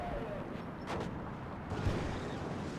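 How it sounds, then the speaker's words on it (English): Rapid autocannon and gunfire bursts from BMD-2 infantry fighting vehicles engaging infantry in the Warno strategy game, a dense continuous rumble of shots and impacts at mid distance. "A lot of BMD-2s just firing off at the infantry there."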